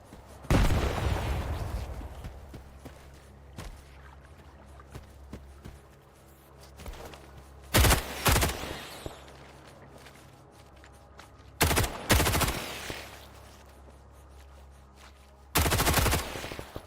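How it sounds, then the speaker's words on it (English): Gunfire in the S.T.A.L.K.E.R. 2 video game comes in several loud, sharp bursts of rapid shots separated by quieter stretches of ambient game sound, with no talking. "it would actually be good to throw a grenade at them and then deal with the rest using a pistol"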